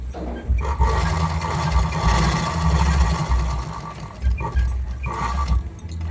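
A sewing machine runs steadily while stitching a fall onto a saree, with a continuous close, loud mechanical whir and rhythmic needle clatter, briefly easing and picking up again, with no voices.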